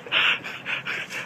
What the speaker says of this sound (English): Is there a dog back there?